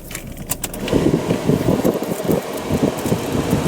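A Toyota Corolla cabin blower fan runs steadily, its airflow producing a broad rushing whoosh close to the microphone with some buffeting wind noise and faint clicks at the start.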